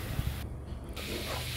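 Ground chili paste sizzles in hot oil in a wok over low heat, a close, steady hiss with a short quieter dip midway before the frying noise returns, and no talking.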